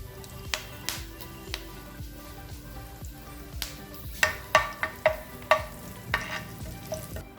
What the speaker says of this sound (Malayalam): ഇതിലേക്ക് കുറച്ച് കറിവേപ്പില ഇട്ട് കൊടുക്കാം